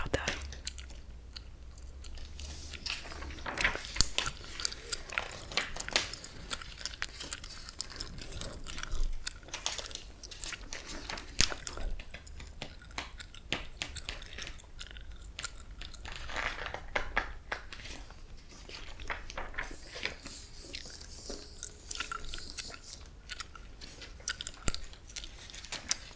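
Close, quiet gum chewing in a whispered ASMR setting, with Kool-Aid gum worked in the mouth in steady wet smacks while magazine pages crinkle and rustle now and then, with no talk.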